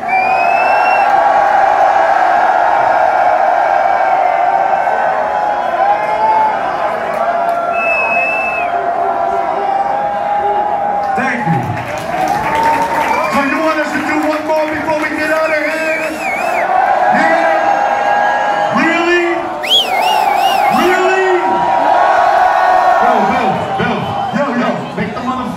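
Concert crowd at a hip-hop show in Thessaloniki, a sustained loud roar of cheering, whoops and shouts, with amplified talk from the stage over it throughout.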